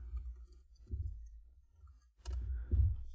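Light clicking of keys on a computer keyboard while a Python error message is typed, a few soft taps over a low steady hum, with a busier cluster of keystrokes near the end.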